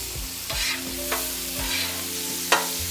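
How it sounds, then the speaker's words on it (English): Vegetables cooking in butter on a flat griddle for Cajun fried rice, a soft continuous sizzle broken by a few distinct scraping strokes of a spatula pushing them across the metal, close up and with no talking. "Now I'm gonna move my veggie down a little bit more toward so they can slow down on their cooking"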